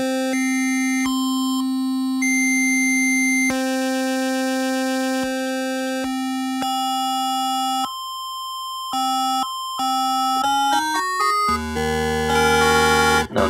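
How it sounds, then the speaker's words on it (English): A Casio HT-6000 synthesizer plays sustained notes with a sync-like tone and added double and triple harmonics, the pitch stepping through held tones that grow brighter and busier toward the end, loud and alone. "We're adding some double harmonics, triple harmonics, offset, kind of sync sound."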